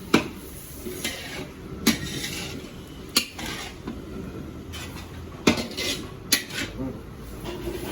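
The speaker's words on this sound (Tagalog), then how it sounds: "yung sahog natin ng pansit, nag-iigisa na tayo" Pancit ingredients sauté in a pan, a soft sizzle running underneath as a metal utensil scrapes and clanks against the pan in irregular knocks, about ten sharp hits over several seconds, close up.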